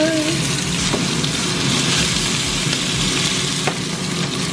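Lamb loin chops fry in a hot pan, giving a steady, close, continuous sizzle and crackle with a few faint clinks over the top.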